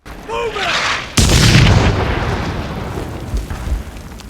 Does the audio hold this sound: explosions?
yes